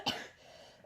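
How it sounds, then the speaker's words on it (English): A single short dry cough, fairly close and isolated, followed by quiet room tone. "It's a dry cough"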